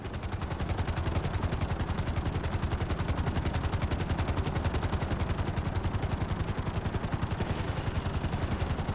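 Rapid, steady rotor chopping drones on without pause, a dense mechanical thudding like a helicopter overhead, from a video game helicopter.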